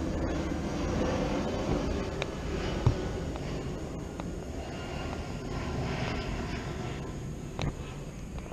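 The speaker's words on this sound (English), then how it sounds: "Airplane going by." An airplane passes overhead at night as a steady, broad, distant engine roar that holds throughout, alone with no speech.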